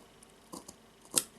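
Scissors make a couple of small, crisp snips through knotted friendship bracelet cords, close and quiet, with no talking.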